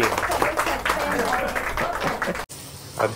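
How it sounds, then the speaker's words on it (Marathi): Applause from a group rewarding two young children with a special prize at a family games gathering, a dense, steady patter of many hands lasting a couple of seconds under overlapping voices, then cutting off abruptly. "सगळ्यांनी टाळ्या वाजवा क्रियांश आणि लव्यासाठी"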